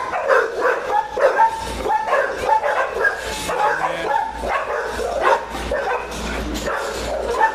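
Several dogs at a humane society shelter bark, yip and whimper almost nonstop, close and loud, with excited high yelps mixed in.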